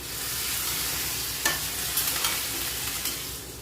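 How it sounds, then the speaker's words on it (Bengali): Boiled chickpeas added to potatoes and spices frying in a pan, giving a steady close sizzle with a few soft stirring scrapes and taps. "আমি এখন সিদ্ধ করা বুটগুলো দিই"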